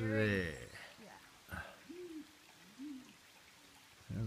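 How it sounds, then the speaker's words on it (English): An owl hoots a few soft, low calls deep in a winter jungle, distant and spaced apart, after a voice briefly speaks at the start. "Sounds like an owl."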